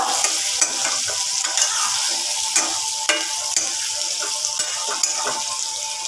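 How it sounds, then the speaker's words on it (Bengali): Red fish curry being stirred in a frying pan with green peas, a steady sizzle under the spatula and regular scraping strokes about once a second, close and fairly loud. "এবার মেশাচ্ছি কি আমি লাল লাল ঝোল"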